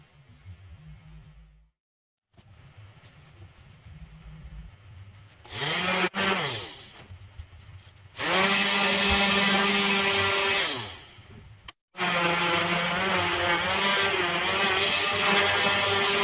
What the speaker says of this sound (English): this is what I'm doing next, is sanding the wood down